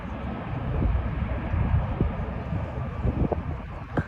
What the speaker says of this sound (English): Oh, a plane's coming in.